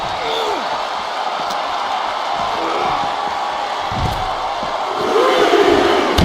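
A wrestling arena crowd roars and cheers steadily through a live match, a loud, dense wall of voices with occasional slams and whoops rising near the end.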